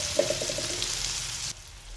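Coarse kharda thecha of cumin and chili dropped into hot oil in a pan, a soft close sizzle that cuts off abruptly partway through, followed by a quieter hiss.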